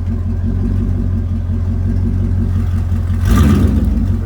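A 1999 Dodge Durango's engine idles steadily at close range with a low, even rumble, then rises briefly in a short surge near the end as the transmission is put into drive.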